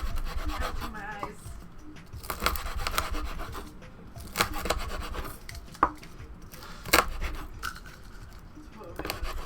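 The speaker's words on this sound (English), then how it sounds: "Are you chopping onions? I did chop onions." A knife chops onions on a cutting board while cooking a Mexican lasagna in a home kitchen, giving a series of irregular close knocks and scraping rubs, with people talking over them.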